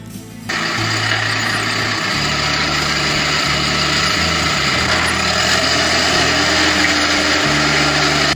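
In a cartoon, a tractor engine starts up and drives off, a loud, buzzy motor drone that shifts pitch as it pulls away, alone and close.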